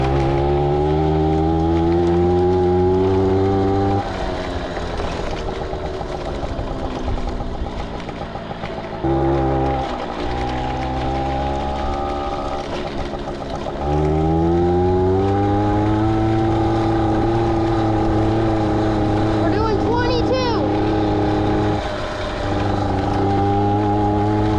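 A 1982 moped fitted with a huge offroad tire on a test ride in the rain, its small engine droning and shifting pitch steadily over a long stretch, close and loud.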